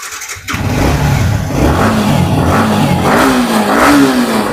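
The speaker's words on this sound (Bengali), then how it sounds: "ওকে MT-15 এর একবার আওয়াজটা শুনে নিন।" A 2019 Yamaha MT-15 motorcycle fires up after a brief crank, then idles and is revved several times in rising and falling pulls, loud and close in a showroom setting.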